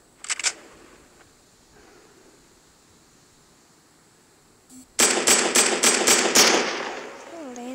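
Fortnite gunfire, a short burst near the start, then a quiet stretch before a rapid loud volley of about six shots in quick succession that trails into a noisy tail.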